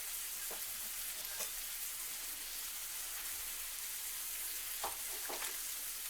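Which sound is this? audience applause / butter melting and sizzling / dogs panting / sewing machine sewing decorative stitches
butter melting and sizzling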